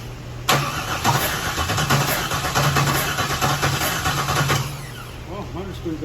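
A C5 Corvette engine with a suspected water problem and doubtful bottom end cranks over steadily for about four seconds in a fast rhythmic churn, then stops, leaving a quieter tail; voices can be heard.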